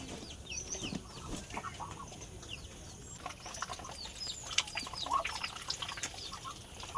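Chickens on a small village farm cluck and call in short scattered bursts, with some wing flapping, moderately close over a quiet outdoor background.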